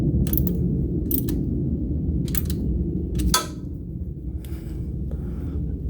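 A ratchet tightens the lockdown screw on a Tremec TKO/TKX/T56 manual transmission, giving several short, sharp clicking bursts spaced a second or so apart over a low, steady background rumble.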